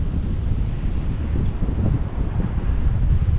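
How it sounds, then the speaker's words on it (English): Strong wind blowing steadily through trees by the Tug Fork River while camping, with low rumbling buffeting against the microphone, continuous throughout with no voices. "It's still pretty windy."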